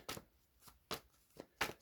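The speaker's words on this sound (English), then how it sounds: "I have to shuffle weird because of my finger" Tarot cards are shuffled in an unusual way because of an injured finger, giving five quick, soft riffling bursts separated by short pauses, close and quiet.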